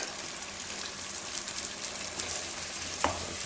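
Chicken karahi frying in a pan with cumin seeds just added, giving a steady broad sizzle with small crackles and a few faint scrapes, close up and without talk.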